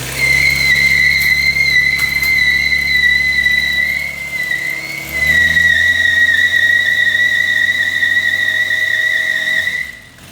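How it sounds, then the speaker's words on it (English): A car held in place doing a burnout with engine oil swapped for vape juice, a loud steady high squeal over a droning engine for about ten seconds, briefly dipping midway before cutting off at the end. "I guess do a burnout"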